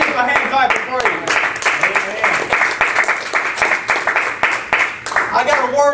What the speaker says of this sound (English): Come on and give a hand clap of praise.